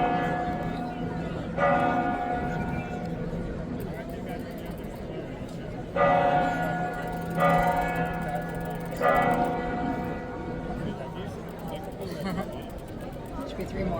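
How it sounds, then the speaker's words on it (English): Church bells ringing out in repeated strikes every few seconds in Santiago de Compostela, resonant and fairly distant, with a hum of crowd chatter underneath. "Hear the bells?"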